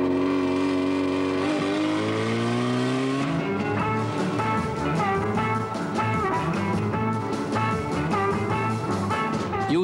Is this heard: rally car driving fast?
yes